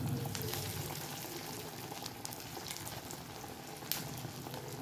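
Kothimbir vadi, coriander fritter pieces, fry in oil with a soft, continuous bubbling sizzle, faint and even, broken by a few small clicks.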